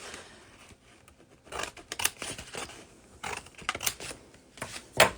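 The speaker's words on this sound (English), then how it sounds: "You just need scissors and you just need to snip those creases right to the fold" Scissors snip through creases in gift wrap paper, a series of short, crisp cuts in uneven bursts, close and alone, ending in one sharper snip.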